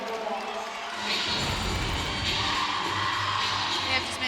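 A crowd of Oklahoma fans at an away college gymnastics meet against Georgia cheers and whoops after a stuck dismount, a steady wash of distant applause and voices while a commentator talks over it.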